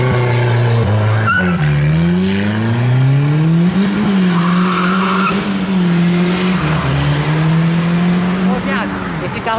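Fiat Bravo car driving away from a car meet, its engine revving and rising and falling in pitch, loud and near with a brief tire squeal, while people talk over it.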